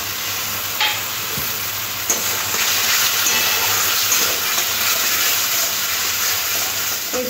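Spiced masala sizzling in a kadai after green peas are tipped in, a loud continuous close fry with a few stirring knocks, no voices.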